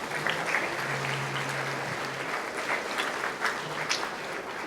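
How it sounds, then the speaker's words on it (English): A school audience at a September 11 presentation in Laredo gives sustained applause for social studies teachers, dense steady clapping with faint voices and cheers underneath. "And guys, a round of applause to your social studies teachers."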